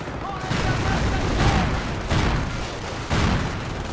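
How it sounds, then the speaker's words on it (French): Sticky bomb blasts in the World War II strategy game Company of Heroes, several heavy booming explosions spaced roughly a second apart amid continuous battle rumble and distant gunfire. "t'as balancé ta sticky bombe"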